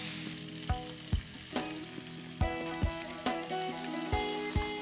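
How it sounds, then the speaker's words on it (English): Prawns sear in a hot pan with a steady, close sizzle, punctuated by a series of sharp utensil knocks against the pan at irregular intervals. "Once the chingri is kind of seared on one side, not more than 30 seconds, we flip it over"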